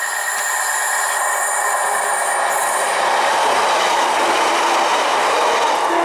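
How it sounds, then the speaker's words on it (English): A Northern class 156 diesel train pulls into Brampton station, with steady rail rumble, high wheel squeal and clickety-clack building as it arrives, fairly close. "Here comes the Northern, class 156."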